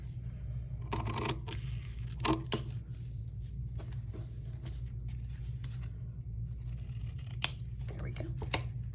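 Scissors snipping through paper while trimming vintage button ephemera, several short crisp cuts scattered over a steady low background hum, close and fairly quiet.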